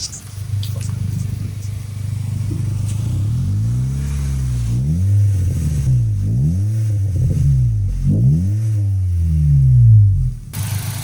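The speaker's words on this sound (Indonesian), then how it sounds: "Knalpotnya ngebas halus" A Honda Jazz S GE8 engine revs repeatedly in deep, rumbling bursts, the exhaust note rising and falling several times, close and loud.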